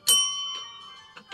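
A single bright bell strike rings out loud and close, its clear metallic tone sustaining and slowly decaying, with a few soft knocks afterward.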